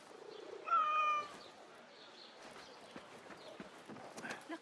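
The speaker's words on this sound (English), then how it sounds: "Oh, there's another cat." A cat in Assassin's Creed Mirage gives a single clear, mid-loud meow, followed by quieter street bustle and hoof-like clopping in the background.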